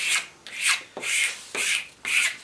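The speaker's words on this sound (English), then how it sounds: "we'll just rub it down onto the wood" A paper pattern is rubbed firmly onto a wooden board by hand: five rhythmic rasping strokes, close and loud, evenly spaced about half a second apart, with no talk.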